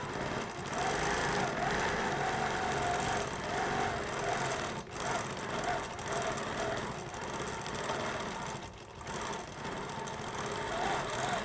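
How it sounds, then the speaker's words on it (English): A longarm quilting machine stitching, a steady continuous mechanical hum and whir that runs close and unbroken, with faint dips where the motion shifts. "And then you're going to start stitching."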